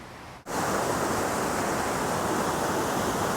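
Water in Hunters Creek rushes along a hiking trail in Rocky Mountain National Park, a loud, steady broadband roar that starts abruptly after a brief quiet and continues unbroken.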